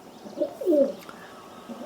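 Pigeons coo softly in a low, rolling murmur, a few throaty calls close by against a faint background hum, with no voices.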